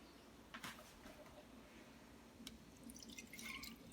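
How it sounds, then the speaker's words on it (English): Lemonade concentrate pours into a cup in a kitchen, faint, thin trickling and a few small splashy drips, quiet and close with low background hum. "So let's say we're gonna pour up to this line here."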